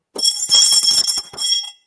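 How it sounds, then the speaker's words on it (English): A bell rung several times in quick succession, bright metallic strikes with a shimmering ring, close and fairly loud, fading out after about two seconds. "We usually ring the bell for tested victories, but tonight we're ringing it for resiliency and positive mental attitude"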